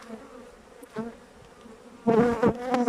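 Honeybees buzz around an overflowing hive, a soft drone that swells abruptly into a dense, loud swarm hum for the final second.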